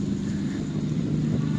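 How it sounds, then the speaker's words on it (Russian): A Whoosh rental electric bicycle's motor starting to run as the rider pedals, a steady low hum and whir under continuous wind and road noise, close and fairly even throughout. "И прям слышно, как мотор начинает работать"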